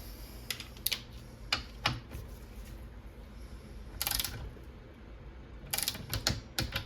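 A bolt on a Honda Civic seat being tightened by hand, with a series of quiet clicking ratchet strokes in short bursts separated by pauses, close up and faint.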